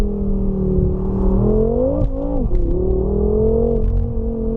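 A BMW F10 M5 accelerating hard from inside the cabin, its engine note droning loud and steady, then rising through a brief dip as it shifts gears and pulls again.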